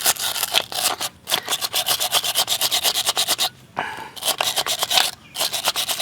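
Steady, rhythmic scraping of dark soot off the copper of a car starter, a dense run of quick strokes with two short pauses, close and loud with no talk.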